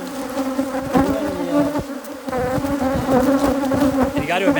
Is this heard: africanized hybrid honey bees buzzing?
yes